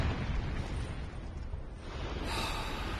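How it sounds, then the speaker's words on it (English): Explosion striking the ground in the video game Dark Souls 2: Scholar of the First Sin, a loud, dense rumbling blast that fills the moment, with a brighter burst swelling near the end. "The actual hitbox explosion comes out a bit later."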